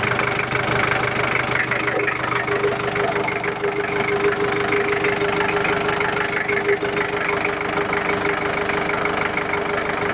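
A 1996 Taft Independent engine idles with the hood open, a steady, even rumble with a slight knocking tick that holds for the whole stretch.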